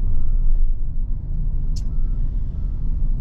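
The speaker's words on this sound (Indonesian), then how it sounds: "kita injek gas dalam gitu." A Toyota Voxy minivan pulling hard under heavy throttle, heard from inside the cabin as a loud, steady low engine and road rumble with no clear rise in pitch and a brief faint chirp partway through.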